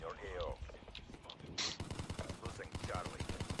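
Rapid gunshots in the shooter game Call of Duty: Black Ops 3, a quick run of sharp, evenly spaced cracks in the second half, with a voice talking over the gunfire.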